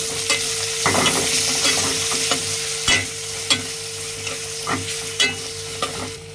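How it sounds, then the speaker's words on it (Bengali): Close, continuous frying sizzle of shrimp with garlic, with repeated clacks and scrapes of a utensil stirring the pan, no voices. "এখন ভালো করে ভাজবো।"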